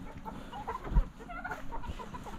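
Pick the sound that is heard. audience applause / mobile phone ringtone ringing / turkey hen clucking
turkey hen clucking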